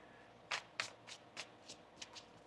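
A tarot card deck is shuffled close up in a quick run of about eight crisp riffling bursts, each sharp and brief, fading slightly toward the end, with no speech.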